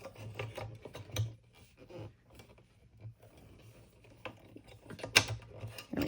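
Plastic cover being lined up and snapped onto a 1963 Royal Eldorado travel typewriter, giving close scraping rubs and light plastic clicks, with a sharper snap near the end and no talk.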